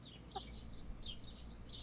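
Chickens cluck and call at a moderate distance, several short bursts spread across the moment against a low, steady background rumble.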